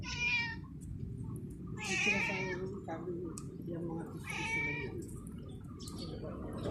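A cat meows three times in drawn-out, wavering cries spaced a couple of seconds apart, over steady low background rumble, at a quarry in Baguio City, Philippines.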